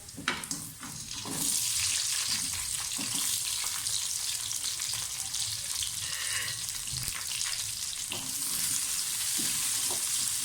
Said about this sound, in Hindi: बस ऐसे फ्राई करना है, बहुत ज़्यादा फ्राई नहीं करना।